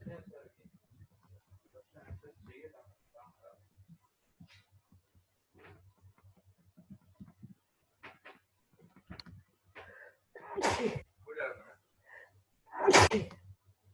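Two sharp, loud sneezes burst out near the end, following a stretch of soft, quiet talking during a physics lecture.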